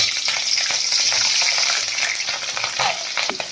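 Five or six slit green chilies fry in hot oil with spices for a dal khichdi, giving a loud, close, continuous sizzle with crackling pops and a brief stirring scrape near the end.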